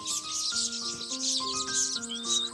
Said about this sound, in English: Birds, called village weavers.